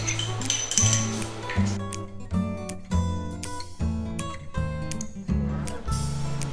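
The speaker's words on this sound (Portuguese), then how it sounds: "pode misturar o bicarbonato e o sal na farinha" A spoon stirring baking soda and salt into flour strikes the side of a bowl in a steady, repeated series of ringing clinks, close and fairly loud, roughly eight knocks in an even rhythm.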